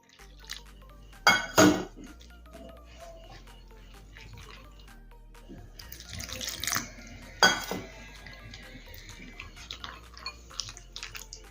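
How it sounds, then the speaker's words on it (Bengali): Flour batter with salt being mixed by hand in a bowl as water is added little by little, giving wet splashy bursts and sloshing between quieter stretches of soft stirring and clinks, with no talk. "সবকিছু মিশিয়ে নেব আর অল্প অল্প জল দিয়ে একটা ব্যাটার বানিয়ে নেব।"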